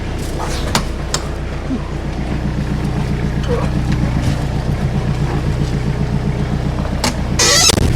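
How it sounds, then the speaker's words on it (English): A diesel truck engine in freezing snowy cold runs with a steady, close, rumbling clatter, with a few sharp knocks and a burst of noise near the end, and a voice briefly heard in the background. "I had to start this twice because it's diesel and it just didn't want, it just froze up a bit."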